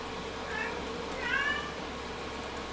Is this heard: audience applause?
no